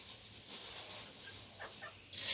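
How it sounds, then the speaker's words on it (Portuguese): Chickens cluck softly nearby in short, scattered calls over a quiet background, ending with a louder burst of noise. "Olha o tratando das galinhas"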